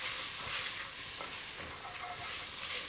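Clove and fresh turmeric being stirred through in a hot pan, with a steady bright sizzle throughout and soft irregular scraping of the spoon underneath.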